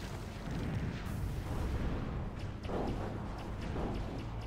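Gunfire and explosions from a Zero-K team match, a dense low rumble of artillery booms and impacts rolling continuously at a distance, fairly faint with no talking.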